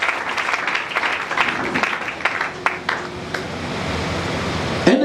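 A church congregation applauds, a dense continuous wash of clapping that swells early, then thins and fades out over a few seconds.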